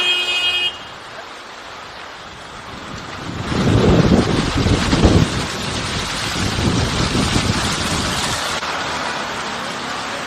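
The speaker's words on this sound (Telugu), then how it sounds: "ప్రస్తుతానికి తేలికపాటి వర్షాలు కురుస్తున్నాయి" Light rain falls during a Delhi dust storm as a broad hiss that swells midway and is mixed with gusty wind, fairly loud and then easing off.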